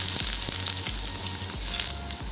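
Chopped green chillies and a small piece of ginger sizzle in hot oil, a dense continuous crackle up close, with a few soft knocks against the pan and no talking.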